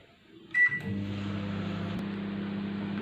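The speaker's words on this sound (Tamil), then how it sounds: "இப்போ மைக்ரோவேவ் மோட்ல வைக்க போகிறோம்." A microwave oven starts with a short beep and then runs with a steady, loud mechanical hum while cooking coconut burfi, continuous and close with no voices.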